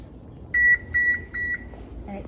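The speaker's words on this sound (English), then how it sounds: "So we're gonna set it on bake at 325 degrees." Electronic beeps from an oven control panel as it is set to bake at 325 degrees, three clear, loud tones in steady succession over a quiet room hum.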